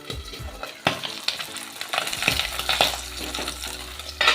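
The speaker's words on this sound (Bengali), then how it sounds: "এত ফুটছে মাছগুলো, তেলটা অনেক বেশি হয়ে গেছে" Pabda fish sizzle and bubble hard in too much hot oil, a steady loud crackling frying sound with occasional clinks of a utensil against the pan.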